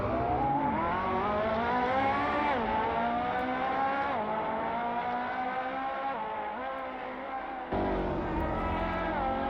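A McLaren MP4 race car in Assetto Corsa pulls away, its loud, close engine climbing in pitch through several gear changes, dipping briefly at each shift before rising again.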